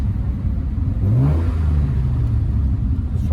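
A close, loud Aston Martin DB4 GT engine running rough blips up into a rev and settles back to a lumpy, uneven idle, with a deep rumble throughout and no voices.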